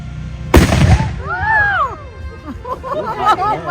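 A flintlock musket fired during a historical demonstration gives one loud close blast, followed by crowd cheering and chatter with whistling and excited voices.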